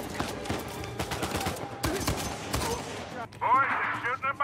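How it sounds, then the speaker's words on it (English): Gunfire in the video game Uncharted 4: rapid bursts of close shots crackle and overlap in quick succession, with voices talking over the shooting and a louder burst near the end. "Boys, they're shooting at my brain."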